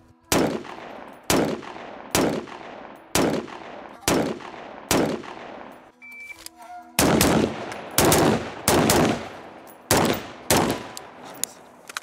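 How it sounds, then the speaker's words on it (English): Rifle shots fired at steel targets while testing a Vortex Razor 1-6 scope, about a dozen loud close cracks with short echoing tails, evenly spaced with a brief pause in the middle. "as soon as I start shooting steel a little bit further, center, miss, I'm gonna run into problems"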